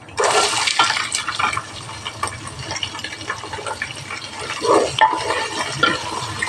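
Four lengthwise-sliced onions tossed into hot oil with tempered spices for chicken pulao burst into a loud sizzle, then settle into an uneven crackle with stirring surges and scraping, close up and without speech.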